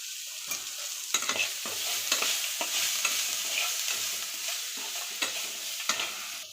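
Semolina upit with coriander being stirred in a pan, a steady soft sizzle broken by repeated scraping strokes of a spoon at an uneven rhythm, close and moderately quiet with no voices.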